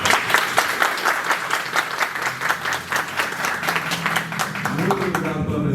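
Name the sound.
audience applause for panel guests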